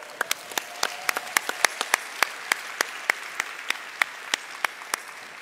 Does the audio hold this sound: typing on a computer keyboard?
no